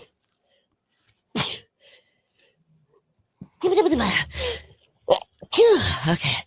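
A sharp sneeze bursts out, followed by a couple of loud gasping, voiced sneezes up close, with a brief spoken word between them.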